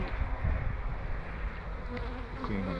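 Swarm of honeybees buzzing steadily at a hive, a dense continuous drone with individual bees flitting close by, loud and unbroken with no talk.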